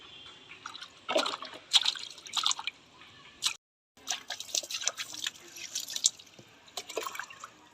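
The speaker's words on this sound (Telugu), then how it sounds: "చూడండి, మా పాపకి స్నానం చేయిస్తున్నాను." A baby being bathed makes intermittent splashes and drips of water in bursts, fairly close and moderately quiet, with a brief silent gap partway through.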